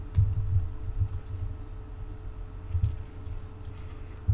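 Soft, scattered key presses on a computer keyboard while CSS code is typed, a few light clicks over a low steady hum, close by and without speech.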